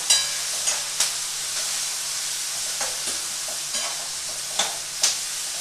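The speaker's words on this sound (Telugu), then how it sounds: "ఈ పచ్చి వాసన పోయేంత వరకు వేయించినా చాలు" Paneer stuffing for a paneer oats dosa fries in a pan with a steady soft sizzle, broken by a few sharp clicks and scrapes from stirring.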